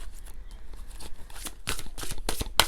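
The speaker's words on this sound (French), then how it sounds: "On va prendre quelques cartes du tarot des fées." Fairy tarot cards being handled and shuffled up close, a run of quick papery riffles and flicks that grow denser toward the end, ending with a sharp snap.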